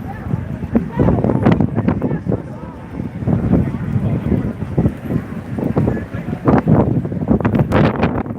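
Strong gusty wind buffets the microphone outdoors in downtown Las Vegas, a loud, continuous rumbling roar with irregular thumping gusts throughout.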